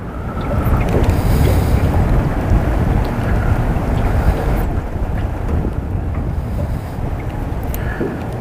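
Steady wind buffets the microphone aboard a fishing boat on a river, with a broad continuous roar and water noise throughout, no talking.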